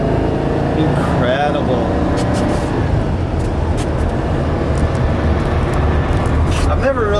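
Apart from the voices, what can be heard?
1959 Porsche Convertible D driving at about 60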